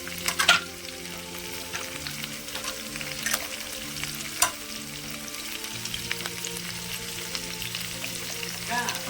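Green chillies, chana dal and curry leaves fry in hot oil in a pan, a steady close crackling sizzle with sharper pops and spatters and occasional stirring clinks.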